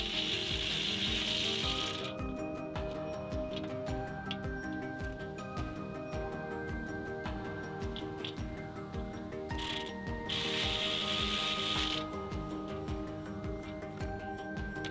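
A ratchet tightens bolts on an aluminum Sherpa panel roof rack on a first-generation Nissan Xterra, with steady, loud, close clicking that runs the whole time and a few brief pauses and bursts of hiss.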